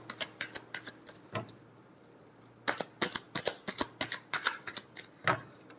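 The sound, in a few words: shuffling tarot cards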